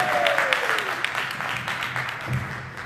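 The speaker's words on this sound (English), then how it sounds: "Give a round of applause." Members at a monthly meeting applaud as the presenters come forward, a moderate continuous patter of clapping with some scattered louder claps and faint voices in the background.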